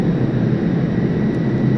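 F-14 Tomcat jet in FSX circling an aircraft carrier, a steady loud jet engine roar with a broad constant rumble, close and unbroken throughout.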